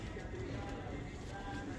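A pigeon caught in a bird-catching net coos softly nearby, a low, muffled call against a steady background.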